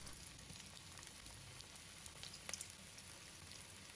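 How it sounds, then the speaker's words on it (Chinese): Meatballs deep-frying in plenty of hot oil over low heat in a wok, a soft, steady crackling sizzle with small pops, faint and close, with no voices. "丸子下锅之后，开小火浸炸2分钟。"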